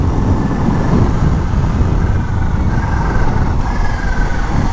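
Supercharged Kawasaki ZH2 naked motorcycle engine roars loud and steady while riding, with broadband engine and wind rush throughout and faint whistling supercharger tones rising near the end.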